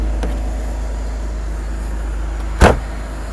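Mercedes-Benz R129 300SL engine idling steadily after a cold start with a freshly repaired fuel distributor, a constant low hum with one brief knock partway through.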